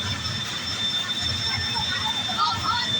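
A train pulls away from the platform with a steady rolling rumble under thin, high metallic squeals from the wheels. A faint murmur of voices runs beneath it.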